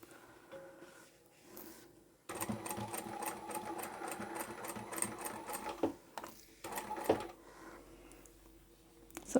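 A sewing machine stitches a twisted chemo cap, a steady close whirring run of rapid needle strokes lasting several seconds, then stopping and restarting briefly with a few clicks.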